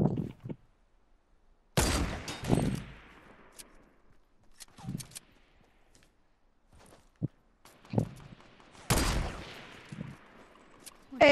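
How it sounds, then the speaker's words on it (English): Sniper shots ring out in a shooter video game, several sharp separate cracks with echoing tails coming at irregular intervals, with quieter clicks and steps between them and no talking. "Shit, we getting sniped."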